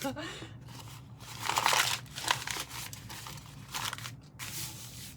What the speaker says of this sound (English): I come back in and I can crumple it up